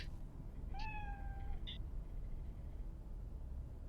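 A cat meows once in the Cyberpunk video game, a short rising-then-falling cry over steady low background noise, with a brief second chirp right after.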